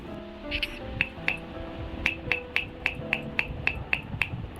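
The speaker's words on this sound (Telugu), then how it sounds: "ఇలా ట్యాప్ చేసినప్పుడు అంటే ఒక మెటాలిక్ సౌండ్ రావాలి" A clay cooking pot is tapped on its bottom, giving a series of about twelve sharp, ringing taps in a steady rhythm, close and fairly quiet over a faint background hum.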